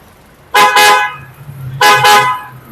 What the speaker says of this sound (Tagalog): Yan po ang available horn natin ngayon.